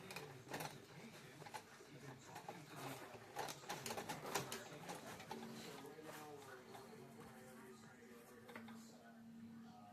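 A Necchi 537L sewing machine running a zigzag stitch gives quiet, rapid mechanical clattering with a busy rhythm, while a person talks over it.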